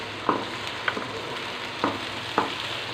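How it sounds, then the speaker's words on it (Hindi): Golden onions and ginger-garlic paste fry in a pan for a keema karela karahi, giving a steady close sizzle broken by four sharp scraping knocks of a spoon as it stirs. "अच्छे से इसे फ्राई कर लेंगे"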